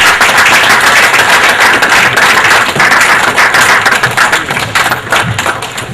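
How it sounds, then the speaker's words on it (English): A crowd at a business school interview event bursts into sustained, dense applause, loud and continuous clapping filling the whole stretch with no talk over it. "Can we stand up"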